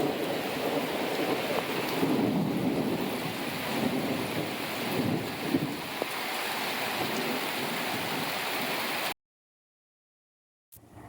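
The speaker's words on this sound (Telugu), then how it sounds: "ఇది ఇప్పుడు ఈరోజు సాయంత్రం కురిసిన వర్షం అనమాట." Evening rain with thunder outdoors: a steady hiss of falling rain with low rumbles, fairly faint and continuous, then cutting to near silence at the end.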